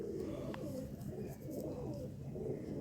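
A Sialkoti pigeon coos in a low, soft, continuous throaty murmur close by, with faint background hum and no clear speech over it.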